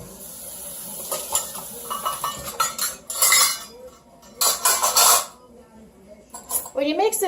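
A fork mixes meatloaf ingredients in a bowl, giving irregular clinks and scrapes against the dish with soft squishing in between, close and moderately loud.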